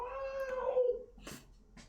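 A cat gives a single drawn-out meow, close and fairly loud, followed by a couple of brief rustling noises.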